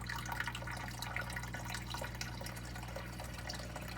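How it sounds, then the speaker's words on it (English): Water poured along a piece of wood to fill an aquarium tank, a soft continuous trickle and splash with scattered drips, steady and fairly quiet throughout. "maybe if we run the water along this wood"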